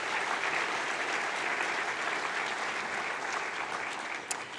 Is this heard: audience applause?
yes